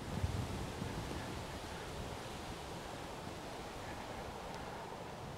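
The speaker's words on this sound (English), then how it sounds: "There's the wind." Wind on a golf course, a steady broad rush of moving air buffeting the microphone, continuous and moderately faint with no talk.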